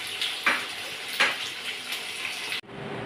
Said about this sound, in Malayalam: ഇതൊരു 2 മിനിറ്റ് ഒരു സൈഡ് വറുത്ത് കഴിയുമ്പോൾ മറിച്ചിട്ട് മറ്റേ സൈഡിലൂടെ വറുത്തെടുക്കണം